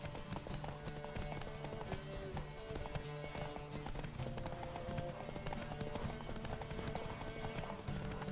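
A horse gallops in The Witcher 3: Wild Hunt video game, its rapid hoof clip-clops running continuously over game music, with an occasional brief whinny.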